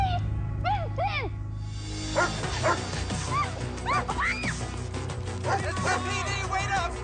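A police dog in a detective drama barks repeatedly in short yips and whimpering bursts amid a busy, noisy scene with people shouting in the background.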